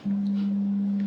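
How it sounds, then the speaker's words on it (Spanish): A pure, steady 200 Hz low tone sounds from a loudspeaker, constant in pitch and loudness for about a second. "Si yo le pido aquí a mi altavoz que vibre su membrana 200 veces por segundo"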